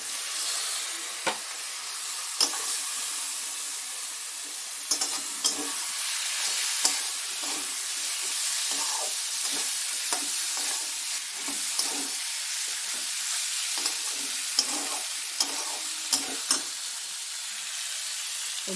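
Chicken pieces sizzle and fry in hot oil in a pan for a kabuli chana curry, with steady hissing and repeated scraping clinks of a spoon stirring, close and continuous without talk.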